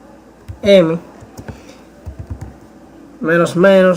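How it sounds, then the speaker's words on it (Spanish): Typing a command on a computer keyboard in a Linux terminal while setting up RAID 0 on Slackware 14.2: a handful of close, quick key clicks in short clusters, set between stretches of someone speaking. "Vamos a teclear el comando mdadm"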